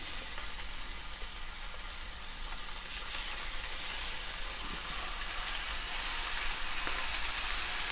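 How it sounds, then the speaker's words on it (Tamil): Chicken frying in oil in an ordinary pan gives a dense, even hiss that holds steady throughout at close range, with no scraping or talk on top of it. "இப்போ நான் நார்மல் பேன்லேயே ஃப்ரை பண்ணுறேன்"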